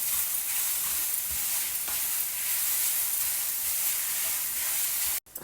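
Grated beetroot sizzling and frying in a pan, a steady bright hiss with faint stirring, continuous and close, with no talking.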